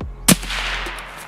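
A single sharp gunshot in the tactical shooter Escape from Tarkov, a loud, close crack followed by a short, fading echo, with another faint hit near the end.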